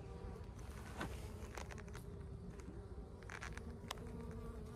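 Honeybees buzz continuously during a spring hive transfer: a dense, steady drone from many insects close by, with individual bees flitting past now and then and no speech.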